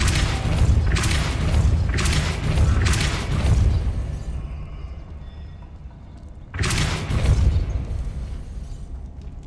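Bursts from a Depulso repelling spell cast in Hogwarts Legacy: four loud, booming whooshes in quick succession, then a quieter lull and another heavy thumping blast, with no talking.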